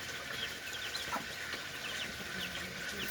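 Chickens, including black hens, cluck softly over a dense, constant farmyard background, with faint repeated calls scattered throughout.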